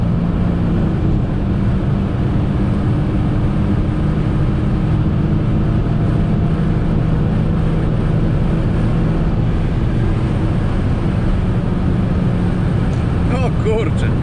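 A 2003 Alfa Romeo 166 with a 3.0 V6 accelerates hard from 100 to 200 km/h downhill on the autobahn, heard from inside as a steady, loud drone of engine, wind and road noise.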